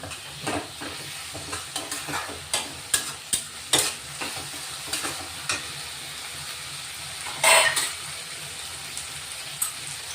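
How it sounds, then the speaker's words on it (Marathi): Ground garlic, ginger and green chili paste sizzles in a pan for a homemade prawn fry, a steady crackling hiss with scattered pops and a few stirring scrapes, one louder burst of spattering near the end. "लसूण अद्रक आणि मिरची वाटून घेतली ती आपण टाकून घेऊ आता"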